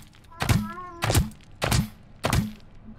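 Four evenly spaced heavy thunks of shooting in Scrap Mechanic, each a loud low impact about half a second apart, with a short whirring tone after the first.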